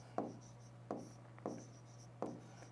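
Chalk or marker strokes from a teacher writing on a board during a geography lecture, four short scratchy bursts spaced irregularly over a faint steady hum, with no talking.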